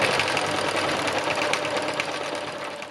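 A sewing machine stitches fabric pieces together, giving a steady, close, continuous motor whir with a fast rhythmic needle chatter and no voices.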